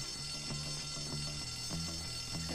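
A fire alarm rings continuously inside a school in the video game Bully, a steady, even electronic bell with rapid pulsing, fairly loud and uninterrupted, with no talking.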